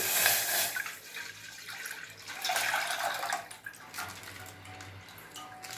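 Water pours steadily into a pot of milk with a gurgling, splashing rush, swelling and easing a few times, close and fairly quiet.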